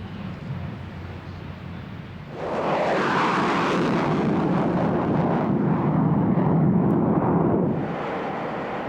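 A jet aircraft at 30,000 feet near Mach 0.95 lights its afterburner: a steady engine rumble abruptly swells into a loud, broad roar that holds for several seconds, then eases slightly near the end.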